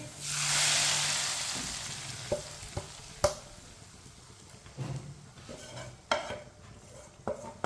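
Hot tadka is poured into mash dal, bursting into a brief hissing sizzle that swells and fades within a second, followed by quieter scattered clinks and knocks of a utensil.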